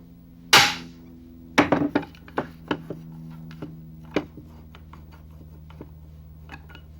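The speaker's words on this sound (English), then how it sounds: "Remove one cleco and install the pop rivet," Pop rivets being installed on the frame of a Rotorway Exec 162F helicopter kit. One loud sharp snap comes first, then a second snap and a trail of lighter clicks and taps that grow fainter, over a steady low hum.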